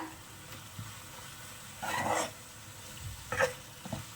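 Prawn fry being mixed in a pan, a few scraping, rustling spoon strokes in separate bursts over a faint low sizzle.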